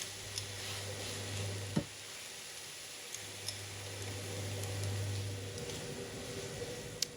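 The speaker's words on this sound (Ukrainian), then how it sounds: "Перемішую все лопаткою, додаю сіль і все, наша начинка готова." A spatula stirs stuffed-pepper filling in a pan, with a faint steady sizzle and scraping strokes close by, and a few sharp taps against the pan.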